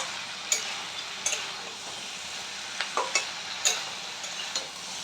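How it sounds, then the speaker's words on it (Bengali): Spices being stirred into puishak chechra, a Bengali greens dish cooked with a fish head, in a pan: soft steady sizzle with several sharp spoon clinks and scrapes against the pan, fairly quiet and close; no talking. "তো এগুলো সব কিছু দিয়ে ভালো করে আবার একটু নাড়াচাড়া করে নিতে হবে।"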